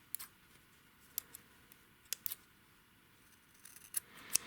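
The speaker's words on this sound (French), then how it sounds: "On coupe l'excédent de fil." Scissors snip excess yarn from a crocheted scarf in a few short, crisp cuts and clicks, faint and close in a quiet room.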